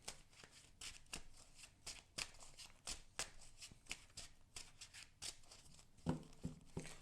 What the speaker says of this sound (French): Bien sûr, je vais à nouveau brasser.